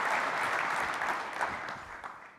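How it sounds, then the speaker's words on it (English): Audience at a business conference breaks into applause, a dense crowd clatter that holds steady, then thins and fades toward the end. "Let's give these two groups a big round of applause"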